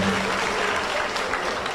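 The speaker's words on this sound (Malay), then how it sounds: "Okey, tepuk tangan tuan-tuan." An audience at a talk on the Malay mendam berahi legend applauds steadily, a dense continuous clatter of clapping heard alone for a couple of seconds.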